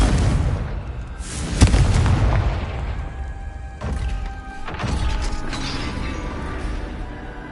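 A Confringo fire-blast spell in a Hogwarts wizarding video game erupts as a loud, rumbling boom with crashing debris, followed by further heavy mechanical rumbles and bursts, with no speech.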